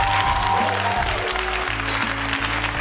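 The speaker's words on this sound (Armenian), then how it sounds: "Ծափարում ենք խմբին" A studio audience applauds a group on Armenia's X-Factor TV talent show. The clapping is steady and moderately loud for about three seconds, mixed with a low tonal hum or music bed.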